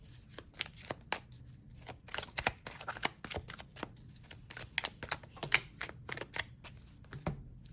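Tarot cards are shuffled and drawn at a reading, with crisp riffling flicks and soft card snaps in an irregular patter, close but quiet, and no talk.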